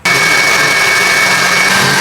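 A mixer grinder grinds batter to a smooth paste, kicking in abruptly and then holding a loud, steady whirring whine alone.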